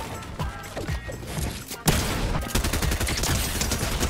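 Shotgun fire in a first-person shooter video game: a sharp, loud blast followed by a dense run of rapid, close gunshot bursts with mechanical clatter that continues to the end.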